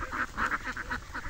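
Ducks near their duck house give a quick run of nasal quacks, several short calls in uneven rhythm, fairly close.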